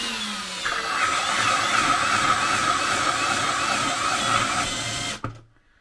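A cheap homemade lathe turning nylon for bearings runs with a steady whirring motor whine and a slight rising pitch, close and fairly loud, then cuts off abruptly near the end.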